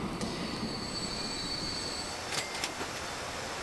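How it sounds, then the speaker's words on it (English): Simulated train wheels squeal on the rails in the video game Transport Fever 2, a UK-modded freight railway. Faint, thin squeals drift over a low rolling rumble, with a few brief clanks near the end. "What is the next train coming?"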